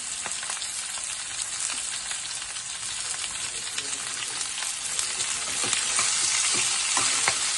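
Onion pieces, garlic cloves and curry leaves frying in a pan for a fenugreek-leaf and vadi curry, giving a steady, dense sizzle with crackling pops throughout, close and alone without any talk.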